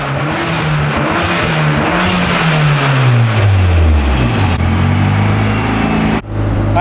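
A fully built SR20 engine in an S13 car revs hard under load on a dyno, pitch sweeping downward over several seconds with a loud, steady roar, then abruptly cutting off near the end.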